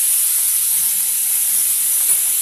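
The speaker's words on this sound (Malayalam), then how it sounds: "ചെറുതായിട്ടൊന്ന് വഴറ്റിയെടുക്കാൻ മതി." Vegetables and paneer sauté in a pan for momo filling, making a steady, even hiss of sizzling that holds throughout with no talk.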